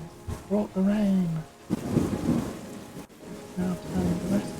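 Rain and rumbling thunder in a terraforming video game, a soft wash of rainfall with low thunder swells under a person speaking.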